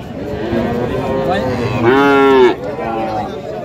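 A Sahiwal bull calf moos at a busy cattle market, one loud drawn-out call rising over steady crowd chatter and background noise.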